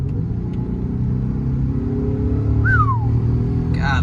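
A car with a 3.0T engine drives at night, its steady low rumble filling the cabin, with a brief rising-then-falling whistle near the end over the drone.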